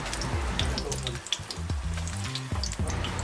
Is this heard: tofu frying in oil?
yes